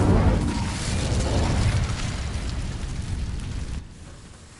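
An Incendio fire spell ignites dry vines in Hogwarts Legacy: a loud burst of flame that whooshes and crackles, then gradually dies down to a quieter sizzle.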